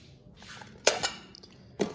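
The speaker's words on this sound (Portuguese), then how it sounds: "e vou adicionar as louças." Dishes go into an Electrolux 8-place dishwasher (LL08B) in a home kitchen, with a few sharp, close clinks of plates and cutlery in irregular bursts over a quiet background.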